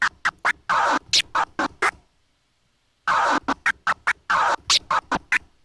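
A DJ scratches a vinyl record in an intermediate scratch pattern, working the crossfader: rapid choppy bursts of scratching, a second of silence, then the same rhythmic cut pattern repeats, loud and close with no talking.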